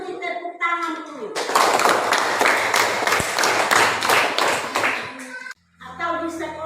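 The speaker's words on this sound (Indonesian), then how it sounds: "tepuk tangan dulu" Children in a classroom clap hands together in a burst of quick, loud, rhythmic claps lasting about four seconds, framed by a speaking voice before and after.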